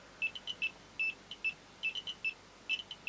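A GM-100A dosimeter Geiger counter sounds its alarm in a high-pitched, irregular run of short electronic beeps, some clustered in quick pairs and triplets, over a quiet background.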